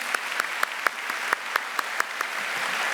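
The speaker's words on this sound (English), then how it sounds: "Let's give him one more round of applause." A crowd applauding steadily, dense clapping with a few sharper claps standing out at a regular pace, moderately loud and continuous.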